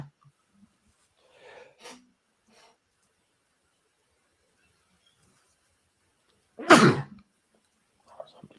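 A single sharp, loud human sneeze bursts out in a quiet room, preceded by faint sniffing or throat noises and followed by a soft murmur.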